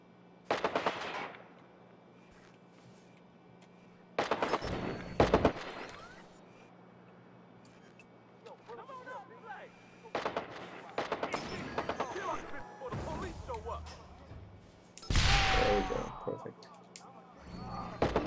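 Repeated bursts of automatic gunfire from the video game Watch Dogs, several loud volleys spaced across the stretch with quieter gaps, a final heavy burst near the end, and voices talking between shots.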